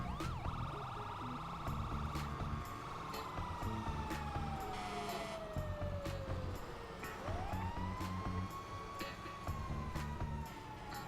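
Wailing sirens from a responding fire truck and police car, one tone sweeping slowly up and down while others blare alongside, heard continuously at moderate distance over steady traffic rumble.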